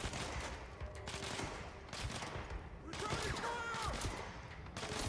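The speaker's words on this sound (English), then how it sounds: "What are you shooting at?" Gunfire in the video game Control, with rapid bursts of shots and automatic fire mixed with game effects, fairly loud and dense, and a voice speaks at times over it.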